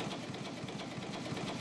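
Old buoy-tender boat's Baudouin 150 hp three-cylinder inline pushrod engine running steadily, a constant, even mechanical chug with a rapid regular pulse, moderately loud and close, no voices.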